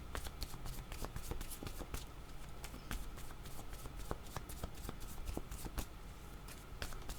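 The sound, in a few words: tarot cards being shuffled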